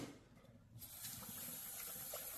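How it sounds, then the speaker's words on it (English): Water runs from a tap to rinse a juicer's pulp jug, a soft hiss that swells into a steady gushing flow after a short quiet start. "Give your pulp jug a rinse, and of course, the juice jug, give that a rinse too."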